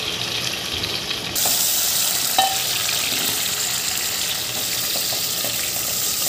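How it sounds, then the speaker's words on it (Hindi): Tomatoes drop into a hot frying pan, and the sizzle swells suddenly into a loud, continuous hiss with a brief clatter, then carries on evenly. "अब इसमें डाल देंगे ये टमाटर"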